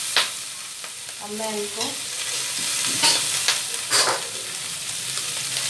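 Tikka boti meat pieces roast on a hot griddle with a steady, close sizzle and hiss, broken by a few scraping stirs; someone speaks briefly over the frying.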